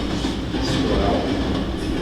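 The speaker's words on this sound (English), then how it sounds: "takes his usual commuter train home to Connecticut" Commuter train heading home to Connecticut, a steady loud rumble of wheels and carriage noise filling the whole stretch, with a faint voice underneath.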